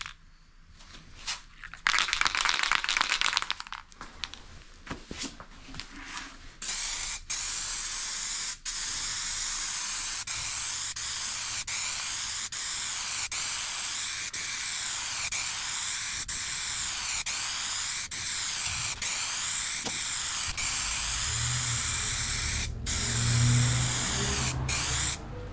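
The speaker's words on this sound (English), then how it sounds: "I gotta put some weld through primer on the car and on the back side where that's gonna be welded" Aerosol can of weld-through primer sprayed onto car body metal around a rusty spare wheel well, close and loud, in long steady hissing bursts separated by brief pauses, with a few clicks and knocks between sprays and no talking.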